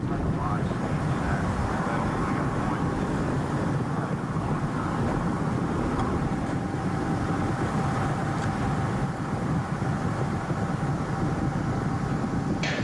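Space Shuttle Atlantis climbs on its solid rocket boosters during the STS-135 launch, a steady, dense roar heard from afar with faint crackle throughout, under a mission commentary voice.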